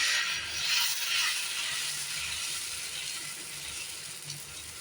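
Dosa batter sizzling and hissing on a hot, oiled dosa griddle in a home kitchen, a steady, moderately loud frying crackle throughout with no talk.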